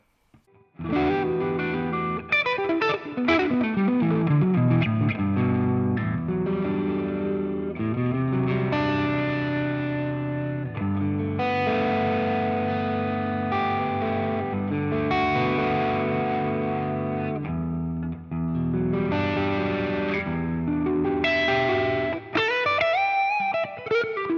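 Electric guitar through a tube amp, overdriven by a Tube Screamer pedal, playing bluesy chords and bends, gritty and sustained, loud and close, with no talking.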